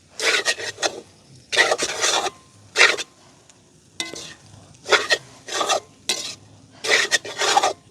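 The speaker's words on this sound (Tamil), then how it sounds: "இப்போ ஒரு கொஞ்சம் கொஞ்சமாக சேர்த்து நாங்கள் பிரட்டுவோம்" Scraping and stirring of crumbled puttu being tossed into a pan mixture for puttu kothu, coming in short rhythmic bursts of gritty rasping against the pan with brief pauses between strokes.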